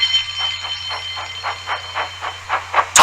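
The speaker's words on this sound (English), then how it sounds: "The breakdown train! Quickly!" A breakdown train from a Thomas the Tank Engine story chugs past with rhythmic steam puffs over a low steady hum, close and fairly loud, ending in a sharp bright hiss or whistle burst.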